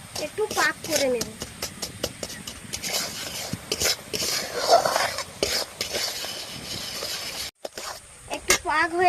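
A spoon scrapes and stirs around a pan as jaggery melts down in water, soft clinks and rubbing running beneath a person talking throughout.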